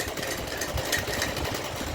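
Sewing machine running a top seam on a Rajputi poshak, a steady close mechanical whir with a fast, even chatter throughout and no speech.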